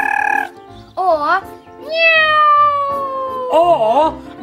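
A voice imitates a cat meowing, giving a few short wavering meows and one long drawn-out meow, close and loud.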